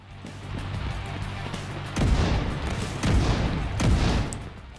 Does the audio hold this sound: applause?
no